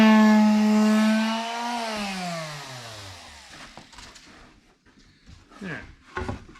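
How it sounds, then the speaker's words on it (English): A power sander strips glaze from a wood window casing made from standard lumber, its motor whine loud and close before winding down, followed by scattered rubbing, scraping and knocks. "as soon as I sand it off"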